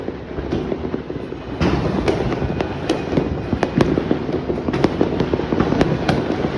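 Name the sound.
New Year fireworks exploding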